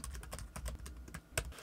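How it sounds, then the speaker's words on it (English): Rapid keystrokes on a computer keyboard as JavaScript is typed into an HTML component, a close, irregular run of clicks with one louder tap near the end and no talking. "And in here, we can type in some JavaScript."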